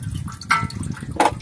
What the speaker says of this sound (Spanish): espérense que acabe de tirar su aceite